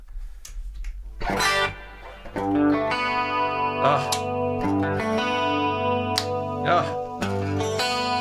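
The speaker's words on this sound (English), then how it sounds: "let's just put a hall reverb on" Electric guitar chords and notes ring out through a hall reverb effect with a spacious, lingering tail, fairly loud, with a brief burst of voice near the start.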